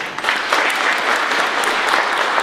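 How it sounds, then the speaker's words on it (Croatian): An audience applauds at the opening ceremony of a Kaufland store in Jankomir, Zagreb, with sustained, dense clapping from a sizable crowd that continues steadily throughout. "a ja vas sad molim da jednim velikim pljeskom pozdravite generalnog direktora Kauflanda Hrvatska"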